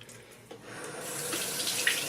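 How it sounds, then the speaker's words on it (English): Tap water runs into a foaming soap dispenser bottle, a soft steady splashing stream that builds after a brief start and keeps flowing close by with no talking. "So I'm going to fill this up with some water here now."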